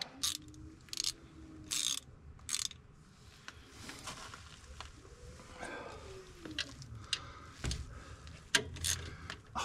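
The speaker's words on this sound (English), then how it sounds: "Got the wobble socket extension." A ratchet fitted with a wobble socket extension turns a bolt on a Kubota tractor, producing bursts of quick close clicking with pauses and some metallic clunks between them.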